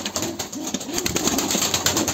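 Pigeons in a coop coo in low throaty bursts while wings flap and rustle nearby, with a steady hum in the background.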